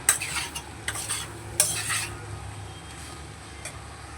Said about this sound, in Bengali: খুব ভালো করে নেড়ে দেবো।